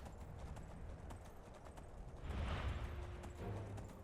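A horse in the Skyrim video game trots with steady clip-clopping hooves, faint and continuous, becoming busier and a bit louder midway.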